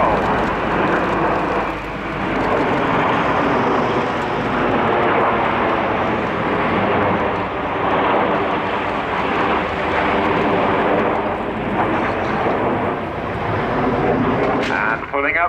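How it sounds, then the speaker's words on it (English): Seven Red Arrows jets pulling up into the vertical at an airshow, a loud continuous roaring jet-engine rush that swells and holds for the whole stretch, broad and powerful, heard from the crowd line. "Pulling up calls Red 1 as the 7 jets pull up to the vertical."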